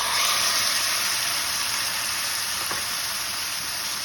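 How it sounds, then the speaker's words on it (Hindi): Chicken sizzles and fries steadily in cooking oil in a pan, a loud continuous hiss with soft stirring, no talk. "1 से 2 मिनट के लिए हमने यहाँ पर इसको फ्राई करना है चिकन को"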